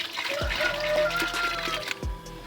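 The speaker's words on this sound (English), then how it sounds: "We'll start pouring, but a little at a time." Water from a 5-liter supply pours a little at a time into a batch of 10 liters of homemade liquid soap, a close, steady splashing and trickling that swells and eases in short surges.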